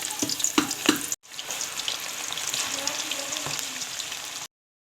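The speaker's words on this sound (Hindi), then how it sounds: "तेल को खूब गरम करके इसमें सीख कबाब फ्राई करें" Seekh kebabs fry in very hot oil with a steady, close crackling sizzle and a few quick stirring clacks near the start, then a brief gap before the sizzling resumes.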